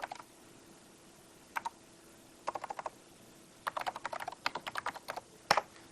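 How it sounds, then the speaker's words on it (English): Fingers tap on a NeXT computer keyboard in short bursts of quick, light clicks separated by pauses, close up and fairly quiet in a calm room. "and I can type."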